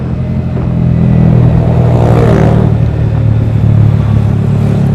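A Yamaha R15 V3 motorcycle fitted with a Daytona Evolution racing exhaust revs up close and loud, the engine note rising in a swell around the middle before settling back to a deep, steady idle.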